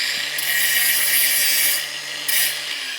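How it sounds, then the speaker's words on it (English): Harsh, continuous abrasive grinding on metal as a sharp burr is taken off a motorcycle mudguard stay on a Velocette, holding steady for almost two seconds, then a pause and a brief second pass, with no talking. "Let me grind that little sharp burr."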